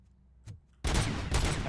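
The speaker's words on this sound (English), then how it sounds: "Looks like a Tech 9 machine pistol." Rapid gunfire from a Tech 9 machine pistol in the video game RoboCop Rogue City, a loud sustained burst breaking in after a quiet moment and a single faint shot.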